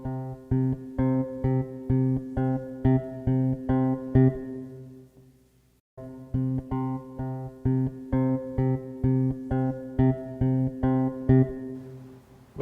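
Electric bass plucked with a three-finger pizzicato technique, playing a steady repeating pattern of even, evenly spaced notes, with a brief pause midway before the pattern resumes, heard alone and close.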